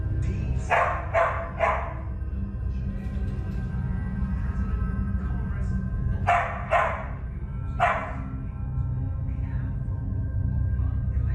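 Dogs barking indoors in a house, two bursts of several sharp barks each, the second group arriving about five seconds after the first, fairly close over a steady low hum.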